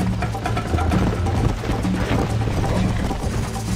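Horse hooves climb a mountain in a western video game, a dense, steady stream of clopping footfalls beneath a low rumbling game soundscape, loud and continuous throughout.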